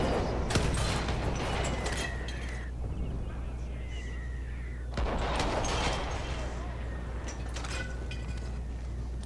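Cannon fire in the Napoleon Total War video game during a battle, booming artillery blasts with crackling rolling echoes and a dense battlefield rumble, two main bursts several seconds apart.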